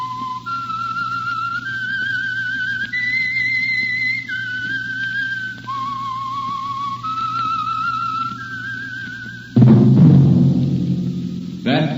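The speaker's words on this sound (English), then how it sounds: "That whistle is your signal, the Whistler." A lone whistler carries the eerie signal melody of the 1947 Whistler radio mystery, a slow sequence of sustained notes over a low hum before an orchestral chord swells in near the end.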